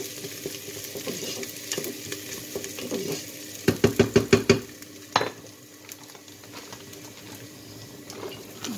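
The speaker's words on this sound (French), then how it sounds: "on a rissolé nos petits oignons" Small onions sautéing in a cooking pot, with steady soft sizzling throughout, a brief run of sharp rapid stirring or scraping clicks in the middle, then the gentle frying hiss carrying on alone.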